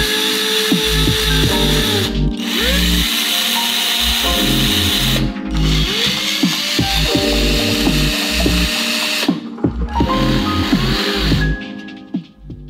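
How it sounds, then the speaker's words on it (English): Power drill fitted with a hook on its chuck, twisting wire into an armature, whirring steadily in three long runs with brief pauses between them; close and loud, with no talking. "what I like to use is a drill with a hook on the end"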